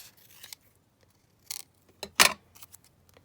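Scissors trim paper in a few short, crisp snips, the loudest near the end, with quiet pauses between them.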